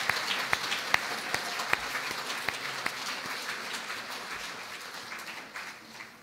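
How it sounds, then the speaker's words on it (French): Congregation applauding during a family Sunday Mass in a church, a soft reverberant patter of many hands with a few sharp nearby claps early on, gradually thinning and fading toward the end. "Alors, on va l'applaudir encore"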